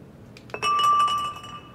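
A glass object in SOMA strikes a hard surface without breaking: a soft knock or two, then one bright ringing clink that hangs briefly and fades, close and alone.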